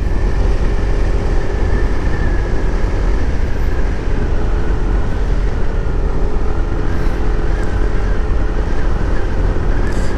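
A motorcycle ridden along a village road near Klaten, Central Java, on the way to Kalitalang ecotourism on Merapi, with a steady, loud engine drone and road rumble throughout, no talk.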